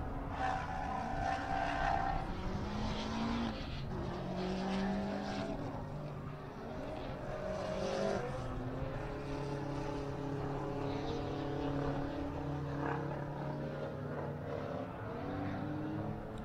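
Race cars lapping Circuit of the Americas during a super lap battle make a continuous engine drone that rises and falls in pitch as they pass and shift through corners, at a moderate level with no voices.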